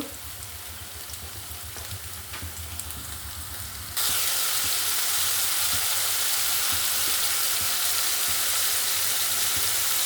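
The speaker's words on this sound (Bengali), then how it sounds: "এখন আমি মাছটা ঢেলে দিব" Katla fish tipped into hot soybean oil with onion and green chili sets off a sudden loud, rain-like sizzle. The sizzle then holds steady and close after a quieter stretch of pan noise.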